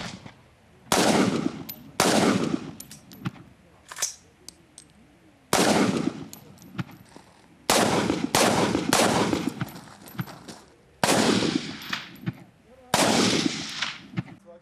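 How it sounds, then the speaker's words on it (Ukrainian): Carbine gunfire at the final day of a Ukrainian practical shooting championship: six loud, close bursts of rapid shots, each lasting about a second, with short quieter gaps and scattered single reports between them. "Учасники змагань стріляють з карабінів."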